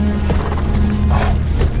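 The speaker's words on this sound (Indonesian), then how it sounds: "Noah kemudian langsung bergegas berangkat dengan menaiki kuda." A ridden horse gallops off in an ape-world film scene, a busy, loud rush of hoofbeats with scuffing and mechanical rattle that cuts off abruptly at the end, no voices.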